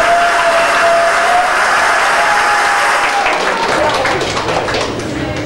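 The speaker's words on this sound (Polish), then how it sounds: "Wielkie brawa dla Państwa młodych i mamy Pani młodej." Wedding guests applaud the newlyweds in a loud, dense burst of clapping that holds steady and then begins to taper near the end, with some cheering mixed in.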